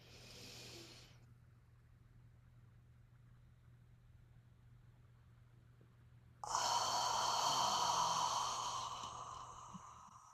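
A guided breathing exercise in a meditation circle: a short breath sound at the start, several seconds of near silence over a low hum, then a long steady rushing inhale that slowly fades.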